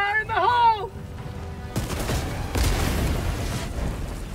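A grenade explodes in the Helldivers 2 video game: after a brief shout, a sudden loud blast sets off a sustained rumbling roar with further crackling bursts and gunfire-like pops continuing to the end.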